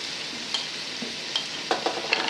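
Chopped vegetables such as cauliflower and carrot frying and being stirred in a pan for Maharashtrian masale bhat: a steady soft sizzle with a few scraping spoon strokes, close and moderately quiet, no talk.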